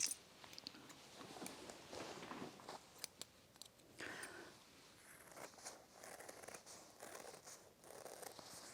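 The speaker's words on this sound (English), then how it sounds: "I would cut this out right here on the drawn line" Scissors cut out fabric along a drawn line, giving a quiet run of close snips and soft rustling with no talking.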